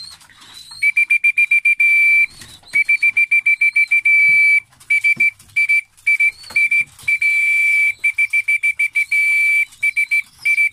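Feeding whistle used to call young homing pigeons to their food in a loft, blown in many quick repeated shrill blasts with short gaps, loud and close, with faint pecking and rustling between.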